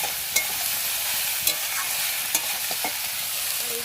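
Garlic, ginger and tomato sautéing in a pan, a steady soft sizzle with a few sharp stirring clicks of a spatula against the pan, close and alone.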